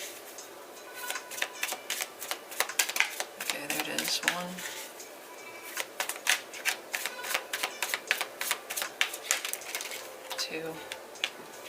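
Tarot cards are shuffled by hand in a steady run of crisp, papery riffles and clicks, close and fairly loud, with a few brief spoken words over them.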